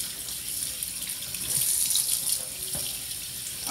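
Tap water runs steadily into a kitchen sink as baby-back ribs are rinsed under the stream, a continuous close splashing hiss with no talk.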